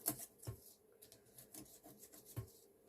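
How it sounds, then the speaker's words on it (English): Paper panels on a handmade gift box being burnished flat, a quiet dry rubbing and scraping with a few soft taps, close and low in level. "Just burnish them a little bit more."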